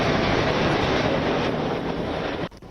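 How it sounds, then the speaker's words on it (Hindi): Three Indian Air Force fighter jets flying past together in a salute formation, a loud, steady broadband roar filling the whole clip before cutting off abruptly near the end. "एक साथ 3 फाइटर जेट्स"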